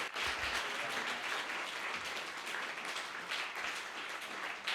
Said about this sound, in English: I think we all need to give a huge round of applause.